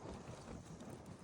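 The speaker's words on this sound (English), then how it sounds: "It's windy." Gusty wind buffeting the microphone outdoors just before an Arizona dust storm, a loud continuous rushing roar with no other sounds.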